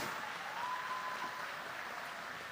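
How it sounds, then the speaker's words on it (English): Audience applause fills a grand-opening event at an expo center, a steady, dense wash of clapping sustained throughout without a break. "Mais palmas, gente!"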